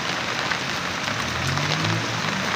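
Steady rain patters on a hard surface, a constant close hiss with faint low rumbling underneath, no voices.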